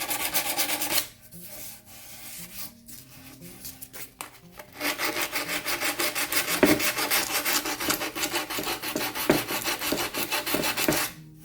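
Sandpaper rubbed by hand over a painted mermaid figure, giving a steady scratchy rasp in quick back-and-forth strokes, close and continuous with a short pause near the start.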